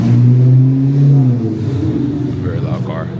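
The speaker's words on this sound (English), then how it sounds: "Very loud car." A very loud car drives past close behind a person talking outdoors near a security conference, its deep engine rumble swelling and then fading under the voice.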